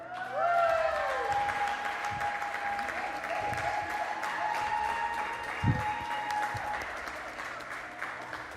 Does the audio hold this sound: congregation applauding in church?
yes